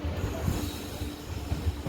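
A train rumbles steadily with a low, continuous roar and faint wheel noise while stopped at or passing through Tirupattur station, heard from inside an unreserved coach, with no voices.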